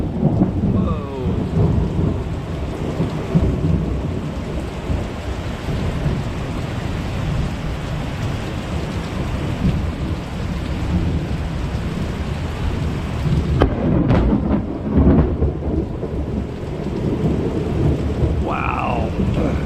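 Loud thunderstorm with heavy rain pouring steadily and deep thunder rumbling throughout, a sharp crack breaking in about two-thirds of the way through, heard from outside a house with no talking.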